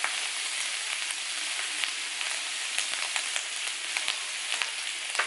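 Barbecue bacon sizzles on a teppanyaki griddle with a steady, bright frying hiss and scattered small pops and crackles, close and continuous, with no voices.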